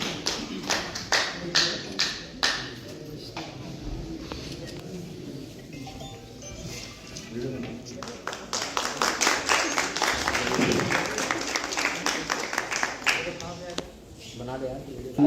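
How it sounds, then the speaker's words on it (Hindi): An audience at a human rights office-bearers meeting claps, scattered taps at first, then a denser burst of applause mid-clip, with people talking in between. "थोड़ी तालियां तो बनती हैं, ऐसा तो नहीं"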